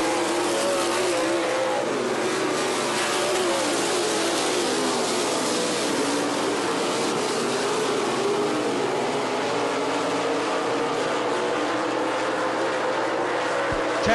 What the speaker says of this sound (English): John Tesh drives it way down in that bottom groove.